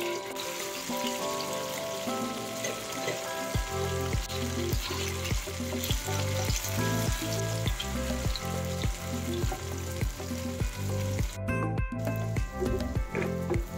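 Sliced tofu frying in a pan with two spoonfuls of coconut oil, a loud continuous sizzle and crackle with music playing underneath and no talking.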